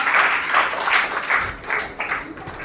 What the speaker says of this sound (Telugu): ఒకసారి గట్టి చప్పట్లు కొట్టామా?